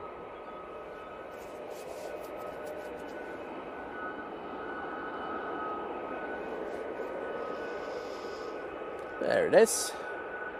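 An EasyJet Airbus A319 arriving from Malaga comes in to land at Manchester Airport, its broad engine roar steady and moderately distant, with a brief louder burst near the end as a voice speaks.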